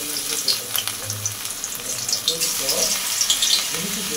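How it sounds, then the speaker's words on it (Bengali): Capsicum pakoras dropped into hot oil in a kadai, a loud, dense, crackling sizzle that bubbles continuously and close up. "এই ক্যাপসিকামের মাখাটা তেলের মধ্যে দিয়ে দেব"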